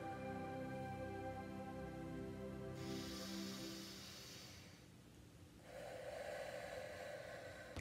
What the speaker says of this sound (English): There's a lot of awkward me breathing.